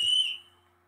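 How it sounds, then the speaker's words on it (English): A whistle in a Roblox transit game gives one short, shrill, piercing blast that quickly dies away. "I only need the whistle."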